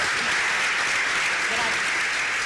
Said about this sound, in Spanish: Vamos a darle un aplauso antes de hacer una breve pausa.